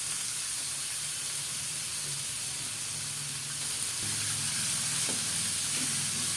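Red onions frying in a pan with garlic for Filipino sweet spaghetti, a steady loud sizzle and hiss with occasional stirring clinks close by.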